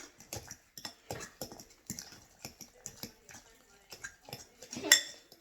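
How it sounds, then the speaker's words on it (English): A fork scrapes and taps against a bowl in an even, repeated rhythm, close and fairly quiet, with one brighter clink near the end. "grab your fork again, mix that in"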